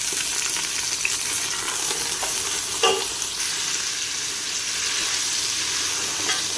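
Meat browns in a pan for yakhni, giving a continuous hissing sizzle with occasional stirring scrapes, close and fairly loud throughout.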